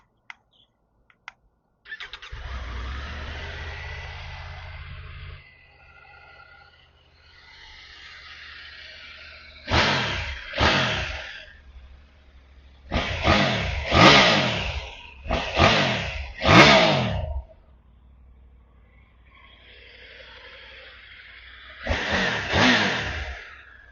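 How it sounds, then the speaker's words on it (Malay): A 2022 Triumph Tiger 850 Sport motorcycle cranks and fires into a low idle, then a series of sharp throttle blips rise and fall, several quick revs clustered together and a final one, loud and close with no talking. "jom kita start tengok ni Triumph Tiger 850 Sport"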